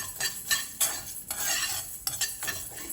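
Cumin, fennel and curry leaves roast in a pan with a light crackle under repeated scraping strokes of a spoon, a rhythmic stirring close by and no voices.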